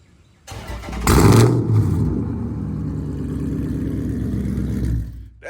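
A Dodge Charger SRT8 with a catless straight-pipe exhaust starts up, a loud cranking burst swelling into a blip, then settling into a steady, deep rumbling idle for several seconds before cutting off.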